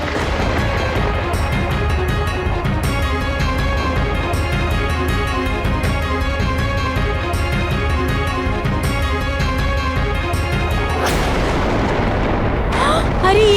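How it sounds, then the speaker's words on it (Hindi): A sustained, roaring blast of volcanic explosions and rumbling booms, loud and dense throughout, with a sharper burst near the end. "अरे ये क्या हो गया? ये तो और विस्फोट हो गया।"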